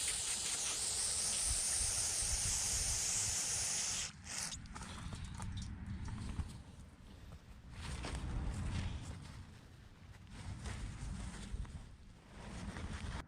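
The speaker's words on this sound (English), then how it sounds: "we're just going to use some carb clean or brake clean" Aerosol carb or brake cleaner sprays onto Subaru rear differential drain plug magnets in a steady, close hiss that runs for about four seconds. Shorter, patchier bursts of spray and dripping follow.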